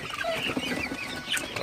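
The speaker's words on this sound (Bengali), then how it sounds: "আপনারা দেখতে পাচ্ছেন মুরগিগুলো আসলে পাগল হয়ে গেছে। ভুট্টা দিলে আসলে খুবই ভালোভাবে ভুট্টাগুলো খায়" Sonali super hybrid chickens clucking at night while eating broken corn, a close, busy flock murmur of overlapping clucks and squawks with no talk.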